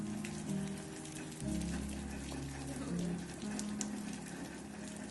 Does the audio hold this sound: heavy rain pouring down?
yes